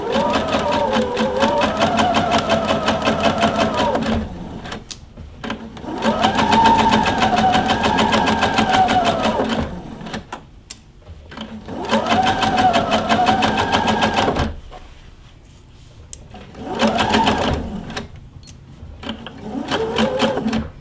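A sewing machine stitches a dart in fabric, starting with a few stitches and a backstitch. The close, rapid mechanical chatter comes in four runs of several seconds each, separated by short quiet pauses.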